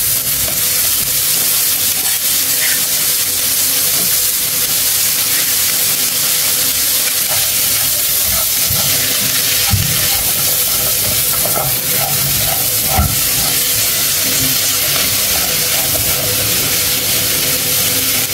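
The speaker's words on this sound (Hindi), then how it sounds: "एक मिनट तक हम फ्राई करेंगे।" Finely chopped capsicum, cauliflower and boiled carrots fry in a hot pan, giving a loud, continuous sizzle broken by stirring and scraping, close up, with no talk.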